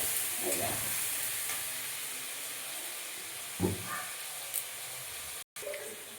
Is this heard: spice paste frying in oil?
yes